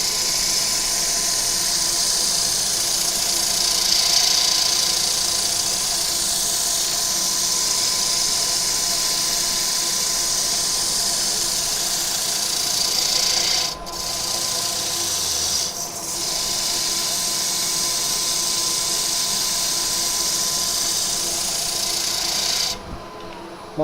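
A steady, continuous rasping drone of a power sander working on a wood-turned piece, loud and close, briefly pausing a couple of times and cutting off at the end.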